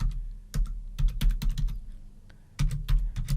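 Typing on a computer keyboard while entering an activity name into a spreadsheet, a quick run of clicky keystrokes in short bursts with a brief pause midway, close and clear with no talk.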